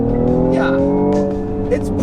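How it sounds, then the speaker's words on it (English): A cheap German convertible's engine revs and accelerates through an active exhaust with a rising, throaty note, loud and near, while people speak over it. "you gotta love the sound of that engine, Tommy."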